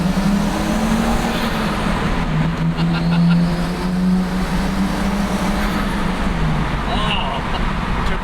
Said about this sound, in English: The turbo's so loud.